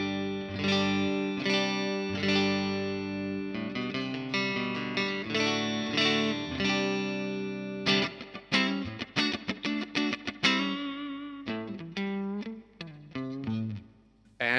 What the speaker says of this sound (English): Just as a reference, this is my clean tone.